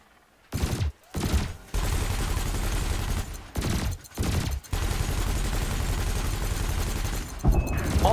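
Spaceship weapons in Elite Dangerous blasting at floating canisters during a combat evaluation, loud sustained bursts of rapid fire broken by several short pauses, with a sharper burst near the end.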